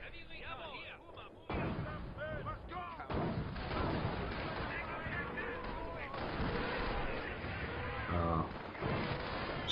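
Dwarf unit in a StarCraft match fires repeatedly, with dense booming artillery-like blasts and explosions running loud and continuous over the whole stretch, mixed with game effects.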